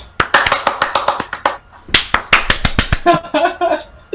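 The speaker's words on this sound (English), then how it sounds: "you get a round of applause" A short round of applause from a few hands, quick sharp claps in bursts with brief pauses, close and dry, with no voices.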